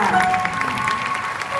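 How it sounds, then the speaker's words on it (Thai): Audience applause at a live concert, a steady wash of clapping throughout with a sustained musical tone ringing underneath. "ขอเสียงปรบมือให้มาเลยนะครับ"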